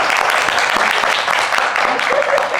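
A classroom audience claps in a brief, lively burst of close, overlapping handclaps with some voices mixed in.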